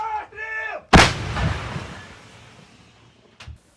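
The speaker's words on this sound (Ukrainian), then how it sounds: "Гармата!" A single booming artillery blast goes off sharply after a brief shout, its roar rolling and fading over a couple of seconds.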